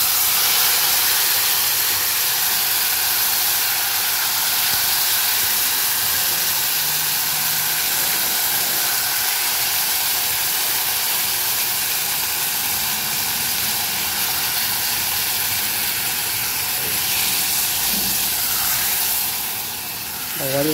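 Beans dropped into very hot fat in a home kitchen, giving a loud, steady, broad sizzling hiss that fills the whole stretch and eases slightly near the end, with no one speaking.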